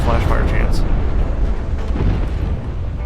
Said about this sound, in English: Centerline just lost its other turret.